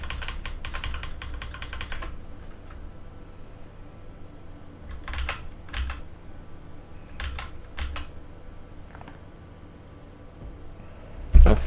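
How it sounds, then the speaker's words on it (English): Computer keyboard keys are pressed during an F/A-18C flight simulator session in DCS, giving scattered clusters of close clicks and taps over a low, steady room hum. "G on the keyboard, and then F on the keyboard."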